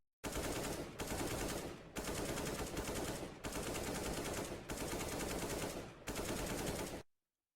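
Automatic rifle fire in Counter-Strike: Global Offensive, loud sustained bursts roughly a second long separated by brief silent gaps, dense and continuous within each burst.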